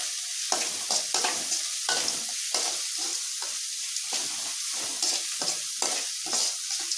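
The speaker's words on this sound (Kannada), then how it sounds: "ಈರುಳ್ಳಿ ಚೆನ್ನಾಗಿ ಫ್ರೈ ಆಗಲಿ ಅದು" Onions fry and sizzle in a pan for a vegetable stir-fry, a steady close hiss broken by repeated scraping stirs, with no voices.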